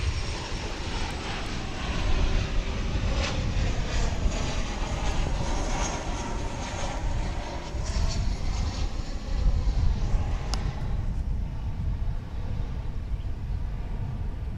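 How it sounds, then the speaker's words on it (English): An American Airlines Boeing 737-800 jet arriving at DFW International Airport from Austin produces a steady, loud engine roar that holds throughout, with faint background talk. "We do have American Airlines Flight 1595 coming in now."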